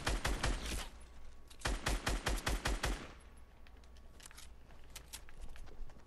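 Rapid bursts of automatic gunfire in Fortnite Battle Royale, two loud volleys of fast shots over about three seconds, then quieter distant shooting and game ambience without talk.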